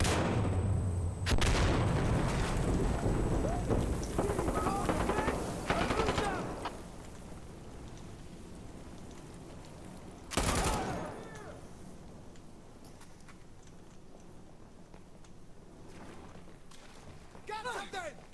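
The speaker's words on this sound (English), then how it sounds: "Where's that shooting coming from?" Heavy sustained gunfire and bursts of automatic fire crackle through a battle in the shooter game Insurgency Sandstorm, loud at first, then a single sharp burst and quieter distant shots, with voices talking under it.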